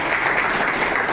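Audience applause at an Independence Day gathering at a residential de-addiction centre, a steady, dense clapping that fills the whole moment without any voices over it.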